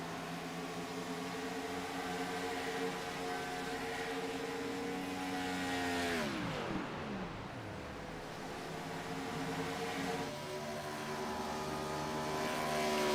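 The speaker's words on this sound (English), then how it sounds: "You hear that car coasting through the corners." An IROC Challenge Series race car at Kansas lifts and coasts through corners, its engine note winding down in a falling whine, then building again; steady and fairly faint, with no talk.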